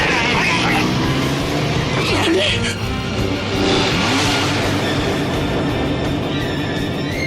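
A loud, close motor engine revs and roars continuously, with a brief screech mid-way, against a busy, dense background.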